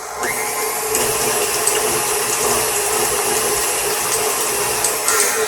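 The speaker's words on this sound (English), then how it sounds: "So I'm going to get those started and start whisking those." A stand mixer with a whisk attachment beats eggs for paleo, gluten-free banana nut bread, giving a continuous whirring, rattling drone with no speech.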